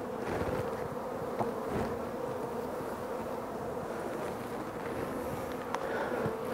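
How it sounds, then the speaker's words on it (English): Dense, steady drone of many honey bees on a hive frame heavy with drone comb, a continuous close buzz filling the clip with no talk over it. "plenty of bees up here"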